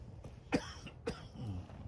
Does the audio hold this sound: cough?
yes